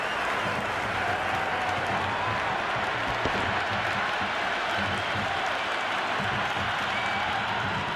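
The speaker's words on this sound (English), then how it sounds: "There's a buzz, a real buzz coming from the stands." Steady, dense crowd roar and applause from a stadium in the cricket video game Cricket 22, during a Pakistan vs India T20 World Cup match, a continuous loud wash of cheering with no break.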